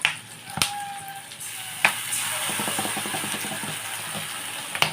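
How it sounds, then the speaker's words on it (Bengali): Capsicum, onion, ginger, garlic and chilli frying in a pan for chilli fish, a steady close sizzle with scattered crackles and a few sharp clicks of a utensil against the pan. "এখানে ক্যাপসিকাম, পেঁয়াজ, আদা, রসুন, লঙ্কা একটু ফ্রাই মতন হয়ে গেছে।"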